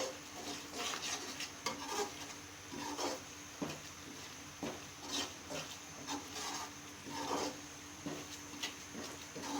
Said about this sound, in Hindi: अब ये देखें सूजी हमारी बहुत अच्छे से भुन रही है, फ्राई हो रही है।